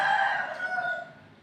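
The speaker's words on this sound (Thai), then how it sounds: "ก็เช้ามาก็ได้ยินเสียงไก่ขันนิดนึงนะครับ" A single rooster crow, loud and close, with a long drawn-out call that fades toward the end.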